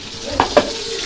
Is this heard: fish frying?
yes